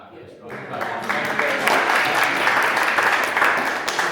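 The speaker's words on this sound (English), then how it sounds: "round of applause for Sam?" A small group at a HYROX nutrition talk breaks into a round of applause for Sam, clapping building quickly and holding steady, with voices mixed in beneath the claps.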